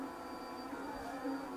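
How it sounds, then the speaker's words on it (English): A large Lulzbot TAZ6 3D printer with a MOARstruder large-volume extruder prints steadily, producing a continuous whirring drone with high motor whine, fairly faint and without speech. "this printer can lay down 100 grams an hour"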